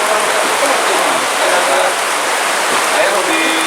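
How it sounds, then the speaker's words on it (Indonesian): Rain pouring down steadily in the mountains at Banjaran, a dense, loud, continuous hiss of drops on surfaces with no pauses. "Alhamdulillah hujan."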